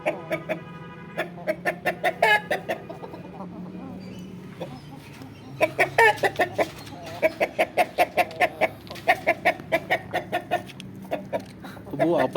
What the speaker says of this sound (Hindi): ये मुर्गा इस मुर्गी को मार रहा है।